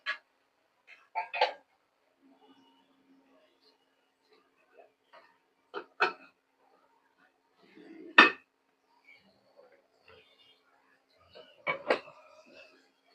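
Spices added one by one into a pan while cooking a Bengali potato-onion fry: sparse clinks and knocks of a spoon and containers against cookware, several distinct taps spread apart in a quiet kitchen.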